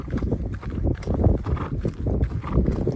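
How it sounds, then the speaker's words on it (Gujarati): Mare's hooves clip-clop in a steady, close walking rhythm, loud and continuous with no talking over them. "કેહાર ઘોડી છે મિત્રો"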